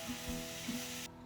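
Diced onion and rehydrated shiitake mushrooms frying in a pan with Japanese teriyaki sauce, giving a steady close sizzle that cuts off abruptly near the end.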